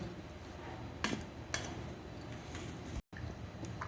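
Rice, cabbage curry and egg curry being served onto plates at home, with a few brief clinks of a utensil against dishes over a steady, quiet room background.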